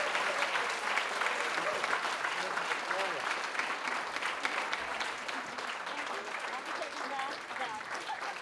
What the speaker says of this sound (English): Let's send our storytellers off with one final round of applause